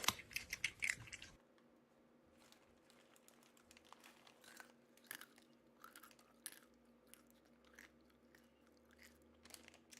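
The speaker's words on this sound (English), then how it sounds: "Let me crunch some nuts." Nuts are crunched and chewed close to the mic, starting with a loud burst of sharp cracks, then scattered quieter crunches and clicks over a faint steady hum.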